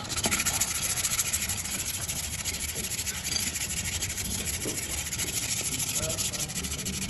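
Continuous scratchy rubbing of sandpaper against metal, close and steady, a brake drum being sanded by hand with faint background noise.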